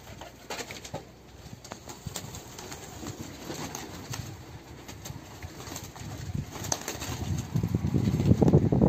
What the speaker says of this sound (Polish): Zobacz, ile gołębi on gania.